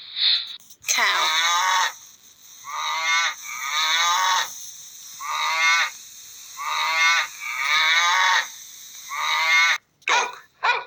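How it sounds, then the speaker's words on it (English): A cow moos repeatedly, with about five long, drawn-out lowing calls close and loud, separated by short pauses. "Cow."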